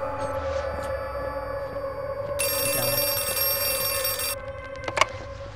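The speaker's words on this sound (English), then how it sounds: "I'm gonna ring that phone for your answer right now." Old-style telephone bell in the Outlast 2 horror game rings in a sustained metallic burst over a droning, tonal ambient backdrop, with a brief sharp knock near the end; no talking.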